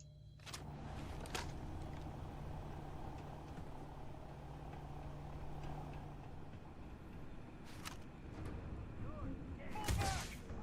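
Gunfire in the sci-fi game Starfield: a few sharp, scattered shots ring out over a steady low rumble, and a voice briefly talks near the end.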